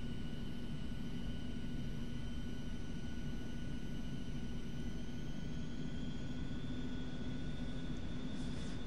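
Jet engines on an Eclipse 550 NG in a flight simulator hold a steady, even roar with faint high whines during the takeoff from the runway, continuous and with no one talking.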